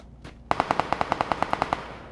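Gunfire in the PUBG Lite video game, a close, loud rapid burst of about fifteen evenly spaced automatic shots, heard alone without talk.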